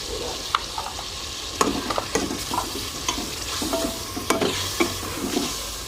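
Meat frying in a pan with cumin and yogurt, a continuous loud sizzle broken by repeated knocks and scrapes of a spoon stirring through the mixture.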